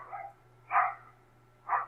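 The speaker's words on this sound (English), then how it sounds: "Sorry about the dog in the background." A dog barking in the background, three short muffled barks spaced about half a second apart, moderately faint and alone.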